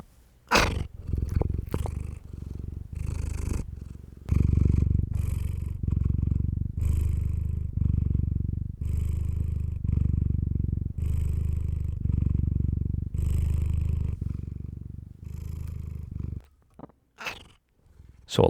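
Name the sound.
cat purring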